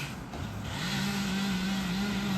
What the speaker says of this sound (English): Look at all that traffic.